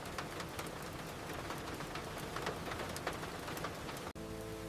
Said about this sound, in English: Rain taps softly against the kitchen window.